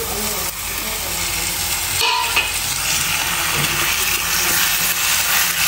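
Chopped tomatoes stirred into browned onions frying in hot oil for mushroom do pyaza, a loud continuous sizzle with scraping spoon strokes and a sudden crackle burst as they hit the pan, no voices.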